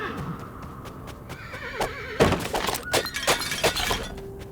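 A horse whinnies in the Western roguelite video game Colt Canyon, mixed with hoof clip-clops, breaking pots and sharp impact thuds in a busy game soundscape.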